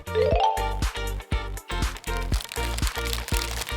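Wrapping paper being torn off a gift, heard as loud, crinkling rips and rustles in a quick series of bursts against a tonal background.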